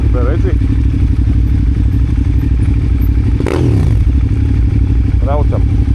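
A motorcycle on a geocaching ride pulls away with a brief rising engine rev in the middle, while voices talk over a steady low rumble and some clatter.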